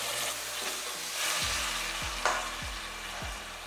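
Tomatoes fry in a pan with a steady crackling sizzle and occasional stirring scrapes, heard close with low tonal hum in the background.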